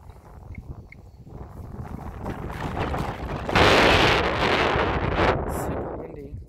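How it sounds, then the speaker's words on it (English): Strong wind blows outdoors around a yard and garden, rising from a steady rustle into a loud, close buffeting gust against the microphone midway before easing slightly. "Super windy."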